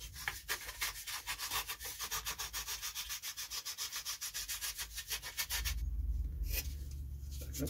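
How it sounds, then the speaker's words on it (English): A sanding block worked over the balsa fuselage of a Guillow's Spitfire model, making close, steady rhythmic rasping strokes in quick back-and-forth succession, then a soft low rustle as the strokes stop. "Don't know if this block's a little bit overkill, but let's just have a little sand and see where we get."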